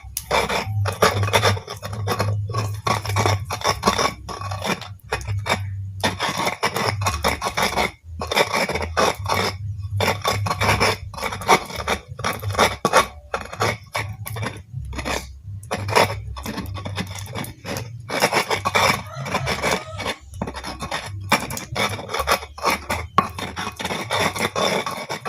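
A rujak's ingredients are ground by hand with a mortar and pestle, making steady, rhythmic scraping and crushing strokes that sound close and fairly loud and continue throughout with no talking.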